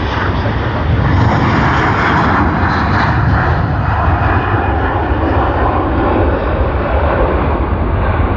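A Hong Kong Airlines jet, a nine-year-old heavy aircraft, departs Sydney Airport, its engines a loud, steady, broadband roar that holds throughout without a break.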